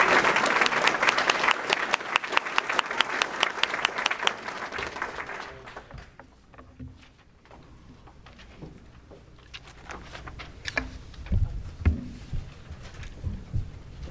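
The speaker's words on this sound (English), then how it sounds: "A round of applause, please, for my esteemed colleagues." Audience applause at a 2023 certificate ceremony, a dense, loud burst of clapping that fades after about five seconds, leaving a quieter room with scattered claps and faint shuffling.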